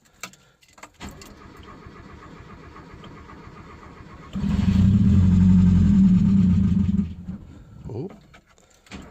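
A car engine fitted with a Weber carburetor cranks and starts with the clutch pushed in, then runs loud and rough for a few seconds before settling, close by, after a week of sitting idle.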